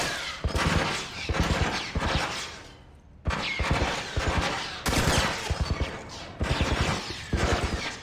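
Sustained automatic gunfire in The Last of Us, loud rapid bursts repeating in rhythmic volleys with brief pauses between them.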